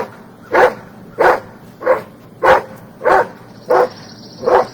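A dog barks loudly and close by, seven evenly spaced single barks about half a second apart, with quiet room background between them and no talking.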